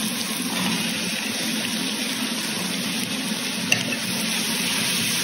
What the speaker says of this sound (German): Und jetzt gebe ich das Wurzelwerk dazu.